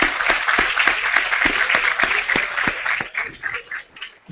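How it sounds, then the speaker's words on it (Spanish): Audience applause at a university presidential talk in Viña del Mar, loud and dense at first with distinct claps, thinning and tapering off toward the end. "Un aplauso para Marco Enrique Ominave"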